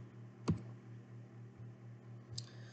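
Typing a web search on a computer keyboard: two or three sharp, close key clicks spaced across a short stretch over a faint steady background hum, with no one talking.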